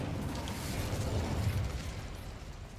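Incendio fire spell cast in Hogwarts Legacy, a steady roaring whoosh of flame with low rumble lasting several seconds, fairly quiet and alone.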